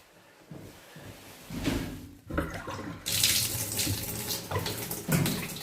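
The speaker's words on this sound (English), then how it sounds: "The water's still going." Water runs from a tap in an abandoned house, a hissing, splashing stream that starts quiet and grows louder in uneven surges, with faint knocks and handling sounds nearby.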